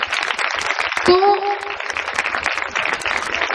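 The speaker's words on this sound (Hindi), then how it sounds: "गुरुदेव को सम्मानित कर रहे हैं, जोरदार तालियों से।" Loud crowd clapping at a Ram Katha religious discourse as the audience honors the guru, a dense continuous burst of applause throughout with a short voice cutting through near the start.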